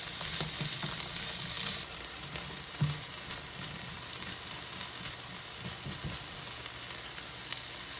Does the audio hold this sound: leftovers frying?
yes